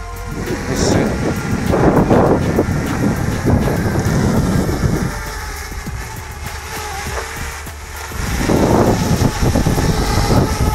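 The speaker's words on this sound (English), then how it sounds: "Wind." Heavy wind buffets the microphone during a Parrot Bebop drone flight, a loud broadband roar that surges, eases in the middle and swells again, with no talk.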